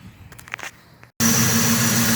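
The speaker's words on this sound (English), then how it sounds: "Car's running, no rattling, no wobbling, no funny noises." A Ford Mustang SN95 with a newly replaced A/C compressor idles after starting, a steady loud engine hum with a constant drone following a brief quieter stretch of handling noise.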